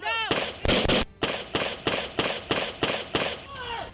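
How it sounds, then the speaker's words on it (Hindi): A rapid volley of roughly nine loud gunshots from police firing on a young man outside a store. The sharp, evenly spaced cracks are close, with brief voice-like sounds at the start and end. "उसके बाद भी उस पर ताबड़तोड़ कई गोलियां चलाई गईं"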